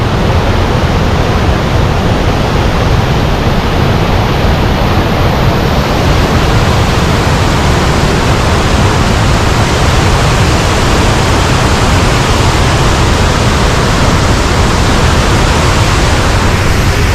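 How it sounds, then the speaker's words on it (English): A raging river waterfall roars in a dense, unbroken wall of rushing water, loud and close, steady for the whole stretch with no voices. "So let's walk over to the actual waterfall itself."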